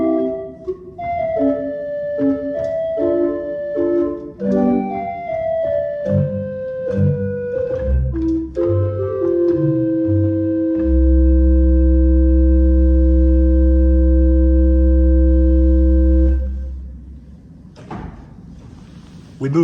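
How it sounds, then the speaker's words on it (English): An 8-foot flute amabile stop on a pipe organ plays a soft, pure-toned melodic passage, ending on a sustained low chord held for several seconds before releasing, with no talking. "Next is another 8-foot. It is a flute amabile."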